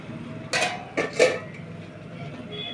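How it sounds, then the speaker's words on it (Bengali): A lid comes off a pan of fish that has been covered and cooking for several minutes, giving three short, close metallic clanks in quick succession over a low kitchen background. "ঢাকা খুললাম"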